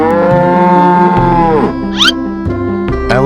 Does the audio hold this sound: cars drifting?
no